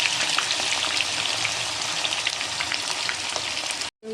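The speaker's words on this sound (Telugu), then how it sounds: "కొంచెం రొయ్యలు వేసుకొని వేపుకోవాలి" Prawns deep-fry in hot oil for a prawn pickle, a dense, loud, crackling sizzle with scattered pops that holds steady up close, then cuts off abruptly near the end.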